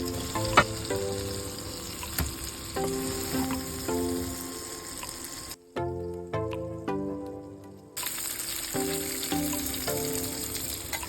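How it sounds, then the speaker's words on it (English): Salisbury steak patties brown in a frying pan with a steady sizzle under background music, which briefly cuts to a quieter passage partway through. "After a few minutes, flip to brown the other side."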